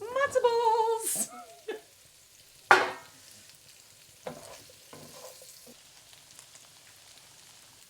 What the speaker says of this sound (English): I'm gonna start sautéing the matzo balls with the root vegetables.